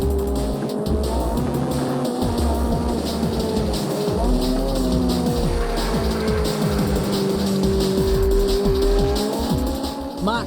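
A Honda CRX race car howls at full throttle in a circuit race, its engine note rising and falling through gear changes with tire squeal, and other cars are audible nearby; a commentator talks over the continuous racing noise.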